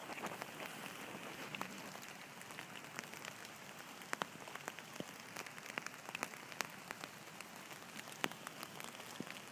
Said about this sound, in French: Et il pleut toujours.